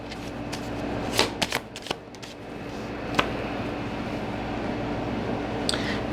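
A deck of cards is shuffled for a card reading, with several quick riffling bursts near the start and a few softer ones later, faint against a quiet room hum and no talking.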